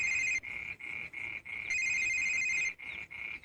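A telephone rings with a repeating electronic tone in a village home, steady bursts of ringing with short gaps, clear and fairly close, with no talk over it.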